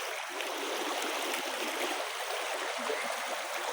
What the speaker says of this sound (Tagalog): Lakas ng agos, mga buddy.